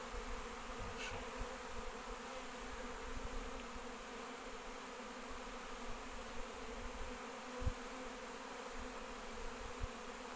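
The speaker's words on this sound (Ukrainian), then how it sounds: "Великий гул над пасікою" Swarming honey bees fill the air over an apiary with a dense, even hum that carries on without a break. It is fairly faint and distant, with no voices.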